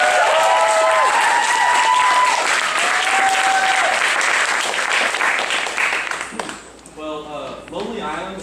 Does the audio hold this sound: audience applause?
yes